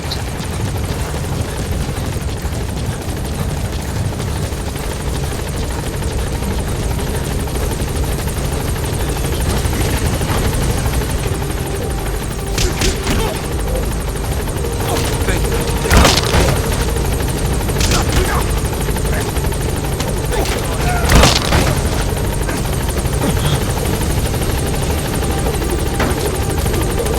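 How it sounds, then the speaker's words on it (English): Loud, steady helicopter rotor noise from the video game Metal Gear Solid V: The Phantom Pain, as a support helicopter arrives at a landing zone, with a few sharp bursts of impact or gunfire cutting through midway. "Support helicopter has arrived."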